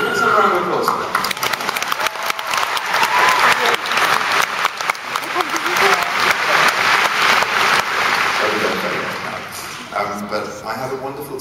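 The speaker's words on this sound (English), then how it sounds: "Let's have a round of applause for them." A large audience at an evening talk breaks into loud, sustained applause, with many hands clapping steadily for about eleven seconds before easing off slightly at the end.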